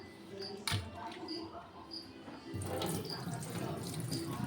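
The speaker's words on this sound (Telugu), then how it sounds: "ఇట్లా వాటర్ అంతా వంపేసి పెట్టేసుకుందాం" Water splashes and trickles steadily, briefly louder near the start and heavier in the second half, as water is poured off washed foxtail millet in a pot.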